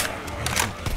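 A weapon reload in Left 4 Dead 2, a quick series of close mechanical clicks and clacks, several sharp metallic snaps within about a second.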